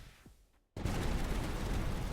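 An orbital cannon fires in the tower-defense video game Tower Dominion: after a quiet lead-in, a sudden loud blast breaks into a dense, continuous roar of rapid explosive fire that holds strong to the end.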